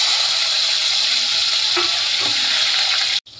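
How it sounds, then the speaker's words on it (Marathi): Curry leaves and tomatoes go into hot oil in a home kitchen pan, giving a steady, close hiss of frying with a few brief crackles, cutting out abruptly near the end. "तेल तापलंय आपलं, कढीपत्ता हे टमाटर टाकूया खाली।"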